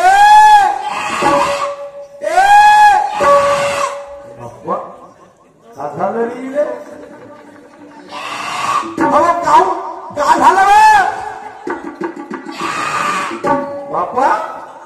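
A stage performer at a tamasha imitates a goat, letting out several loud, wavering bleats with a voice, alternating with spoken talk.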